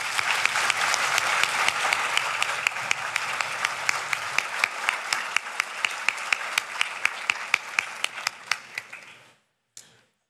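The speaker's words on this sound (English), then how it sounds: "A warm round of applause" A conference audience at a naval war college strategy forum gives sustained, even applause with sharp individual claps standing out, then it cuts off abruptly near the end.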